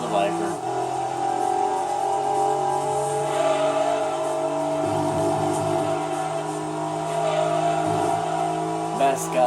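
Dodge Viper engine in the Gran Turismo 2 video game, a steady loud drone with pitch shifting as it changes gear, tire noise underneath and someone talking over it throughout.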